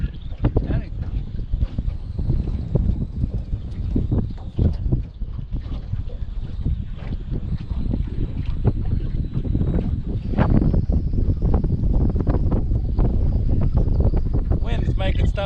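Strong wind buffets the microphone on a boat, producing heavy low rumbling gusts that run throughout, with someone talking under the noise.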